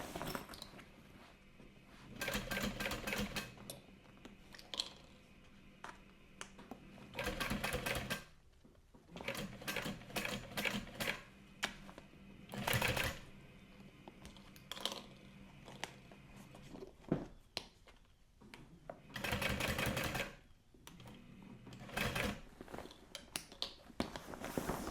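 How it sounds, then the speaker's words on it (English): Sewing machine stitching along the folded fabric edge of a sport duffel bag, in several loud bursts of rapid needle stitching separated by short pauses and handling noise, with no talking. "I'm going to sew as close to the folded edge as possible."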